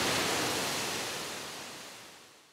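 Powerful 100-metre waterfall on the Everest Base Camp trek in Nepal during the dry season, a loud steady broadband roar of falling water that slowly fades, with no voices.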